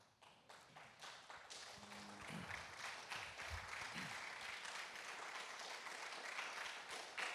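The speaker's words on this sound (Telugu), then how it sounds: "మరి వెంకటరమణ గారిని అందరం లేచి నిలబడి చప్పట్లు కొడుతూ ఆహ్వానిద్దామా?" A church congregation stands and claps to welcome a guest pastor at a Sunday service. The applause is faint and distant, building from scattered claps into a steady, sustained round.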